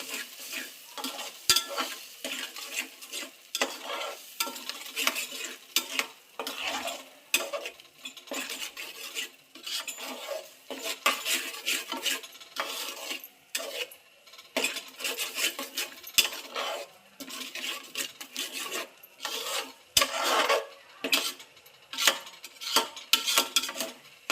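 A spoon stirs a masala mixture for chilapi fish curry in a pan, making repeated close scraping and clinking strokes over a faint sizzle, with no voices.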